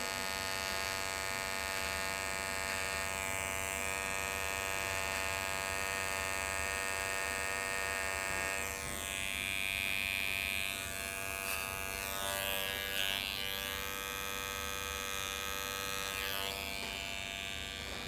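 Electric hair clippers cut a hard part line, holding a steady, close buzzing hum with a bright whine for the whole stretch. The tone shifts slightly as the blade presses into the hair.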